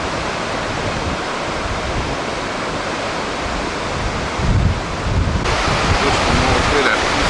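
Rushing water of a waterfall at Parc des Chutes, heard from a footbridge as a loud, continuous broadband roar with some wind buffeting.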